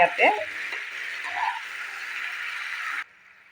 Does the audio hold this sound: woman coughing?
no